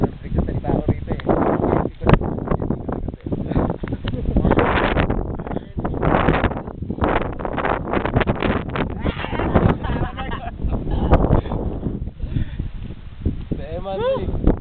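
Strong gusts of wind on Mt. Sembrano buffet the microphone in loud, uneven bursts while people talk throughout.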